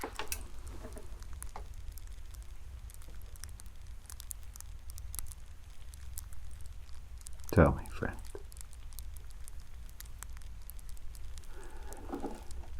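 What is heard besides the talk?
crackling fireside fire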